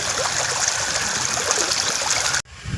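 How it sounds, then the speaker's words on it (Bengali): Water rushing fast into a field at dusk, a steady close gushing stream that cuts off abruptly near the end. "দেখুন জল আসছে খুব দ্রুত আসে জল খুব স্পিড আসে জল"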